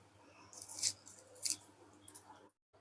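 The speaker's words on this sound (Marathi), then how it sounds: "हे बघा, आता मी बारीक एकदम कांदा कापून घेऊया." A knife chops onion finely on a cutting board for egg biryani, landing a few sharp, close cuts spaced about half a second apart against a quiet kitchen background.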